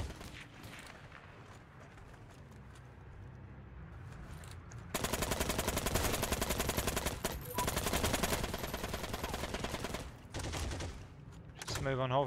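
Rapid automatic gunfire rattles in a World War II video game, dense and loud in long sustained bursts with brief gaps, following a quieter stretch of game ambience with occasional shots.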